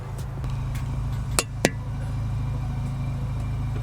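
A VW MK8 GTI fitted with an MBRP cat-back exhaust idles close to an under-car mic, a steady low rumble with two sharp clicks partway through.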